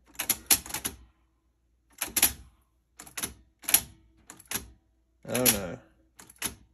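A Sony SL-6200 Betamax player's tape mechanism clunks and whirs in short bursts, a series of close mechanical thunks and clicks separated by brief pauses, with a voice briefly reacting.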